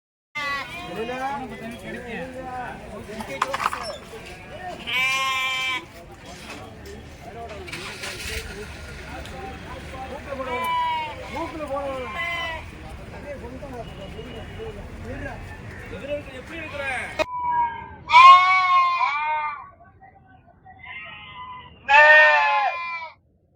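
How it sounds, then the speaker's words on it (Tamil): Goats and sheep bleat repeatedly at a crowded Friday goat market in Ettayapuram, Thoothukudi district, with loud cries rising over a steady murmur of traders' voices and some vehicle noise. "தூத்துக்குடி மாவட்டம் எட்டயாபுரம் ஆட்டுச்சந்தை வெள்ளிக்கிழமை"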